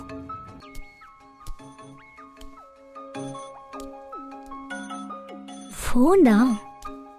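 A mobile phone ringtone plays indoors as a repeating melodic tune of clear tones, moderately loud, followed by a brief burst of a voice near the end.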